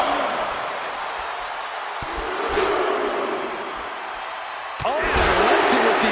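Sharp slams from a wrestler's knee strikes landing during a wrestling match, two distinct impacts ringing out over a loud, roaring crowd with commentary voices.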